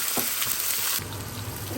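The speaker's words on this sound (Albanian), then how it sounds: "Pasi që vaj është nxehur, i marrim qip. Qesim në tigan." Chopped onions hit hot oil in a pan heated to 220 degrees, giving a loud, steady, close sizzle that shifts in tone partway through as they settle and keep frying, with no talk.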